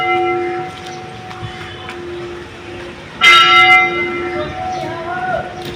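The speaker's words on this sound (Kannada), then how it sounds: "ಬೆಲ್ ಹೊಡಿತು ನೋಡ್ರಿ." A school bell rings outside a school while parents wait, a sharp loud burst around the middle of the clip following quieter tonal ringing, with faint voices in the background.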